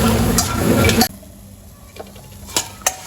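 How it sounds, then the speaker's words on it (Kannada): Cluster beans dry roasting in a pan without oil while stirred, a busy scraping rustle for about a second, then quieter with a few sharp ticks and taps against the pan. "ಇದನ್ನ ಹಂಗೆ ಸ್ವಲ್ಪ ಕಲರ್ ಬರೋ ತನಕ ಹುರ್ಕೋಬೇಕು"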